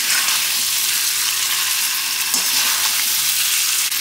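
Fried jackfruit pieces sizzle steadily in a hot pan with prawns and spices, a loud unbroken crackle of oil with occasional stirring scrapes and no talking.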